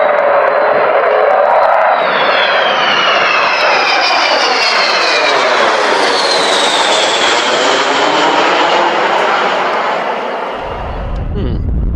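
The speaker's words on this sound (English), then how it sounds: "A jet-powered, tailless, delta-wing, high-altitude strategic bomber" Avro Vulcan jet bomber roaring past, a loud continuous engine roar with a sweeping pitch shift as it passes overhead, fading slightly toward the end.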